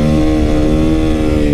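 A Yamaha YZ450FX supermoto engine revs hard under throttle, loud and close, a sustained buzzing roar with no voices over it.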